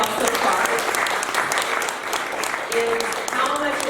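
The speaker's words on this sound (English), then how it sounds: "Let's just do a round of applause so far" An audience at an interfaith conference for Guru Nanak Dev Ji's 550th Parkash Utsav claps in sustained, dense applause filling the room, with voices mixed in beneath it.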